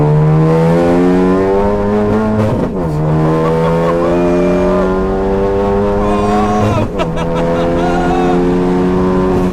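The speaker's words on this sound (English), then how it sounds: "now it sounds like a rally car" A loud, raspy straight-piped, methanol-injected 350 bhp Ford Focus ST engine revs hard twice, pitch climbing steadily before briefly dropping between throttle blips, close by with no talking.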